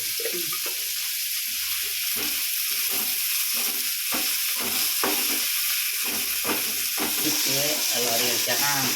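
Garlic, onion, tomato and curry leaves sauté with mustard seeds and dal in a hot pan, making a loud, continuous hiss and sizzle with stirring. A voice is heard faintly near the end.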